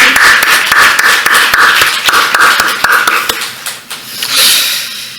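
A church congregation claps together after a sermon call for praise and encouragement, loud sharp rhythmic hand claps in a quick steady pattern for several seconds, then fading into a brief murmur.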